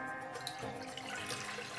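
Water is poured into a pot to start a chai tea base, a steady splashing stream heard close and alone without talk.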